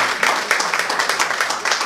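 Audience clapping at a business meetup event, a dense, steady patter of many hands sustained throughout at moderate loudness, with no clear voices over it.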